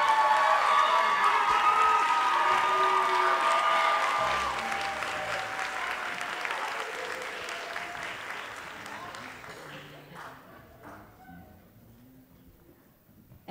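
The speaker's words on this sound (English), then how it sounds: "Because you deserve a big round of applause." A school pops concert audience claps and cheers for the stage crew, loud sustained applause with a few shouts that gradually fades over about thirteen seconds, voices murmuring as it dies away.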